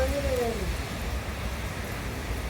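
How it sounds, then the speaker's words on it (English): Heavy rain falls on a city street as a steady, fairly faint wash of hiss and patter, with a brief voice-like tone at the very start. "Look how hard it's raining."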